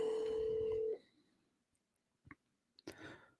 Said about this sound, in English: But we're calling Steve's mom's phone, so I don't think I've ever called her before.